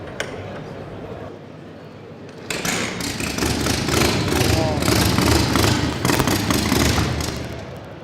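A short hot rod Indian Scout motorcycle kicks over and catches, jumping from quiet background to a loud, rough, rapid-firing engine that keeps running unevenly, with people speaking excitedly around it.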